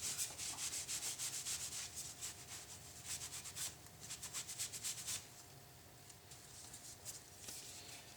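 A cloth rubs excess wood stain off a wooden Jenga-style block in quick, repeated strokes, a close, dry scrubbing that pulses rhythmically at first and then slows into occasional softer wipes.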